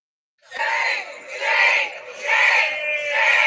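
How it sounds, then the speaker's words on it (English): A large crowd chants "shame Donald Trump" in loud, rhythmic waves, with three to four swelling repetitions of the shouted phrase after a brief silent start. "They're screaming, shame Donald Trump."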